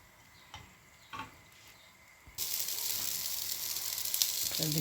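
Mince and cheese paratha hits hot oil in a pan and a loud, steady sizzle starts partway through, following a few quiet taps and clinks, then crackles on without a break.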